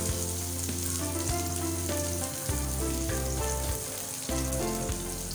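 Onion sautés in sesame oil with a steady, close sizzle that runs throughout over a droning tonal background.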